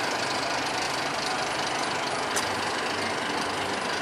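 Walking Dead roller coaster at Thorpe Park climbing its lift hill, a steady loud mechanical rumble and clatter that holds evenly throughout.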